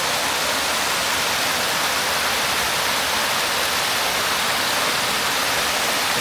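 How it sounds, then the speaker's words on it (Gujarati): A heavy volume of water flows over a dam, a loud, steady roar of rushing water with no voices. "એક બીજું ડેમ બાંધેલું છે ને પણ બહુ વધારે પાણીનું ક્રોસ છે"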